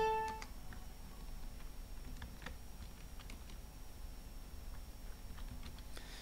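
Computer keyboard keys tapped in quick irregular bursts while Arabic text is entered, faint and close against a low steady room hum.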